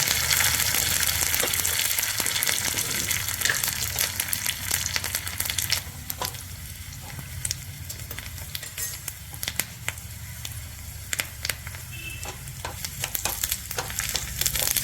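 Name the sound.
dried red chillies and curry leaves sizzling in hot oil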